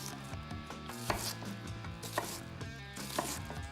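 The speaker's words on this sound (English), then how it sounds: "Push the knife halfway into the onion." A knife chops steadily through an onion on a cutting board, making a run of close, distinct dry knocks and crunches with a few sharper hits, and no one talks.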